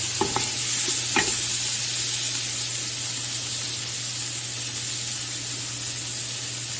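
Chicken biryani masala with tomato and onion is stirred in a pan, a couple of scraping strokes near the start over a constant loud sizzle and hiss with a low steady hum underneath.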